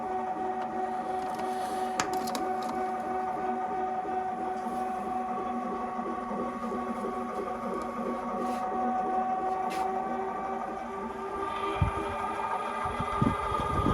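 A honey extractor spins steadily, giving a continuous mechanical whir with a few faint clicks, even and unbroken throughout with no talk.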